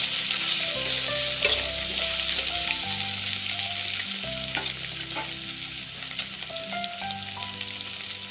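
Turmeric powder goes into onion and ginger-garlic paste frying in hot oil, a steady close sizzle with light stirring and scraping throughout, no talk, alongside faint tonal music.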